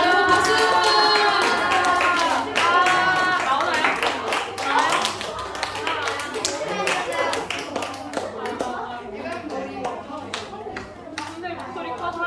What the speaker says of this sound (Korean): 마이크 나올 때까지 박수 주세요.